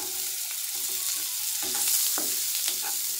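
Onions sautéed in a pan for ragi drumstick-leaf adai give a continuous close sizzle, with a few spoon-scrape stirs breaking through. No speech.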